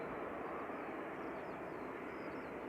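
Lufthansa airliner departing Manchester Airport, a steady broadband jet roar held at constant loudness throughout, sounding distant and smooth with no voices over it.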